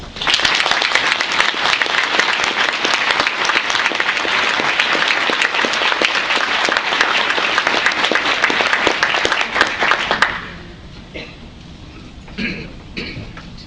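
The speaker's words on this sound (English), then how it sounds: "So please join me in a warm round of applause for President V. Lane Rawlins." Warm audience applause greeting a university president as he comes up to speak, a full, dense clapping that holds strong for about ten seconds, then drops away abruptly to a few scattered claps and light room noise.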